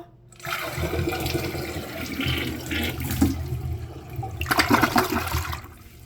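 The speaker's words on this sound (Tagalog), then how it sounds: "Tingnan natin kung magpa-flash nga." A newly installed toilet flushes in a renovated bathroom: a loud rush of water swells, gurgles and drains over several seconds, with a second surge of swirling water near the end, no talk.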